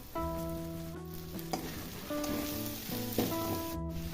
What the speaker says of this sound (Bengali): জল দিয়ে মশলাটা ভালোভাবে কষে নেব